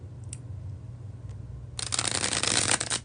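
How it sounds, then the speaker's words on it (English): A deck of playing cards gets a bridge shuffle, first a brief near-quiet pause with small clicks, then a loud, fast, crisp riffle of cards flapping together, ending as the cards bridge down. "when I do the bridge shuffle, like I'm about to do"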